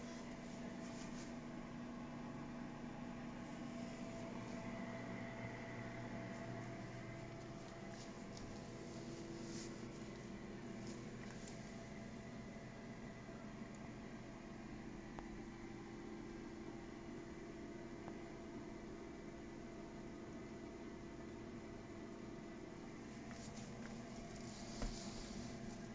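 A steady whirring fan hum with airy hiss from a Kitcher air fryer runs continuously and evenly, with no change in loudness.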